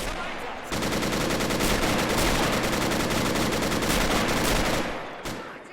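Rapid, continuous machine gun fire from Men of War: Assault Squad, loud and close, with bursts pouring into the flank of a trench and holding for several seconds before trailing off.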